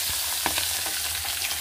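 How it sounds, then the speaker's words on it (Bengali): Fish frying in hot oil in a kadai, a steady, dense sizzle that crackles close up throughout with no talking. "তেলটা তো গরমই ছিল, ওর মধ্যে আমি মাছটা দিয়ে দিলাম।"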